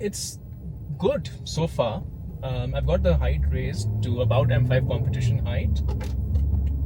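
BMW F10 M5 with freshly adjusted, lowered KW suspension driving on the road, a low engine and road rumble rising steadily beneath someone talking throughout.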